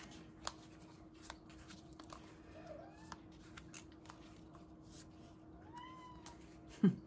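Several faint cat meows rise and fall against a quiet room, followed by a sharp, louder knock near the end.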